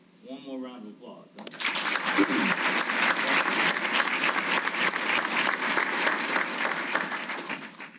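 A voice speaks briefly, then sustained applause from the audience at an awards ceremony breaks out and continues steadily, full and even, to the end.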